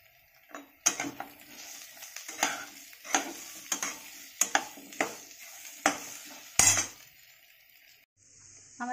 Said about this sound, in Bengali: ডালগুলো আমরা দিয়ে দিলাম। একটু ভাজতে হবে।